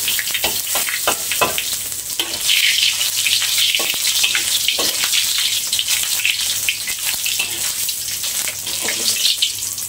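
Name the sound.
frying green beans and egg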